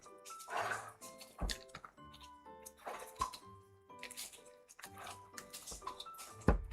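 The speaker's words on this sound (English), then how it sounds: "I don't know if you guys heard my dog" A dog moves around indoors with scattered clicking, scratchy footsteps and brief thumps, close by and fairly quiet, with no clear barking.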